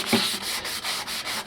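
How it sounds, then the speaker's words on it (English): A medium Scotch-Brite pad and medium sanding block scuff the painted bed of a Ford Maverick pickup, producing close, rhythmic rasping strokes back and forth in a steady repeated pattern with no talking. "I'm just roughing it up with a medium Scotch-Brite pad, a medium sanding block."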